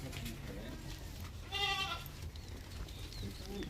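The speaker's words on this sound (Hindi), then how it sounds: "ये अबलग बकरा है माशाल्लाह से" An Ablaq breed goat at a Qurbani livestock sale gives one short, wavering bleat close by, partly over people talking.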